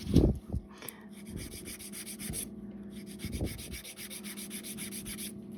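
An acrylic-gel nail on the little finger being filed by hand during French-tip nail extensions, giving a steady close rubbing rasp with a few louder strokes and short pauses.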